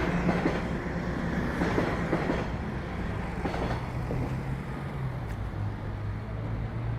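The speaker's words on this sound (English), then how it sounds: "That's a Line 1 train." Continuous rumbling roar of a Toronto subway Line 1 train passing close by, rail clatter and wheel noise holding steady throughout with no voices.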